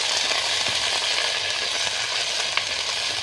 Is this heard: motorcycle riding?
no